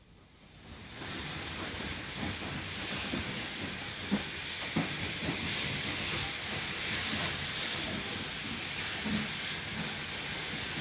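A Bluebell Railway steam train running on a heritage line near Horsted Station, a steady broad hiss and rumble with faint rhythmic wheel clicks, building up in the first second and then holding at a constant moderate level.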